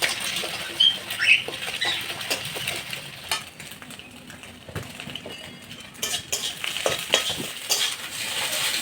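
Egg frying in a home kitchen pan, a steady soft sizzle and crackle with intermittent scraping and stirring taps, no voices.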